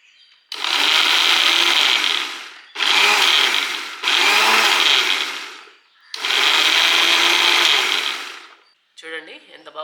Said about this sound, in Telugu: ఈ విధంగా మనం తిప్పుకుంటూ ఉంటే గ్యాప్ ఇచ్చి పల్స్ అడ్జస్ట్ చేసుకుంటూ తిప్పుతూ ఉంటే